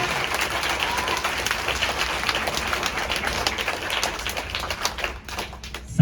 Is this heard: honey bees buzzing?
no